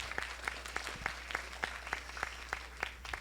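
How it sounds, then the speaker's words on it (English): An audience applauding on the opening night of a film festival, with claps landing in an even, steady rhythm, moderately loud and close, and no talk over them. "Let's give her one more round of applause."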